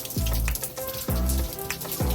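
Water drips and splashes onto a surface in the rain, heard as a close, repeating pattern of watery hits and plinks.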